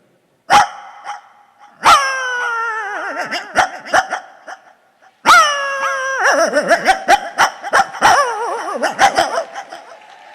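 Dogs bark and yelp loudly nearby, with drawn-out howling barks in two long bouts separated by a brief pause, plus scattered sharp yips.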